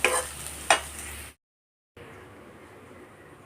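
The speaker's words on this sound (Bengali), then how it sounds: "এগুলো আমি লাল লাল করে ভেজে নেব।" Figs frying in oil in a pan, two sharp stirring scrapes over a sizzle, a brief silence, then a steady soft frying hiss resumes.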